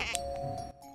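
A goat in a pizza-making video game lets out a short, loud bleat over a steady game background hum, with a small chime near the start.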